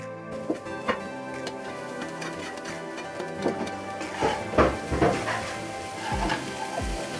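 Cooked clam meat, boiled with salt and turmeric, is stirred in a pan, a soft sizzle under intermittent clinks and scrapes of a spoon against the pan, close and fairly quiet.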